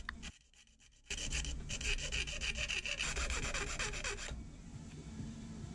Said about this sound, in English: And then I filed out the notches to make them all even.